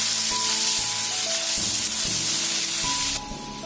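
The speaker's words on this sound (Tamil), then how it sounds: "இப்போ தக்காளியும் நல்லா வதங்கிடுச்சு." Tomatoes sizzling and frying in a pan for a Tamil-style crab gravy, a steady close hiss and crackle with stirring and no talk.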